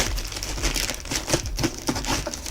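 Packaging crinkles and rustles as a box of Nike Air Max 90 Camo Croc shoes is unwrapped, with close, irregular rustling throughout.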